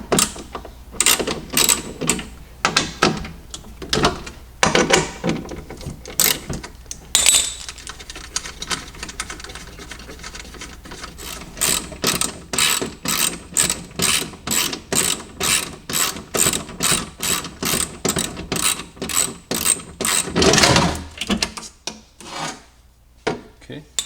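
A ratchet wrench loosening 10mm bolts from the power window motor of a Nissan 350Z, with bursts of fast clicking that break off and resume, close up and alone.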